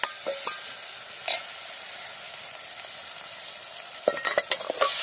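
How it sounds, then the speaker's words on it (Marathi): Turmeric- and salt-rubbed mutton stirred into browned red onions over a village wood-fired stove, a continuous hissing sizzle with sharp scraping stirs near the start and a burst of clatters toward the end. "आता आपण ही हळद मीठ लावलेलं मटण ह्यात टाकूया."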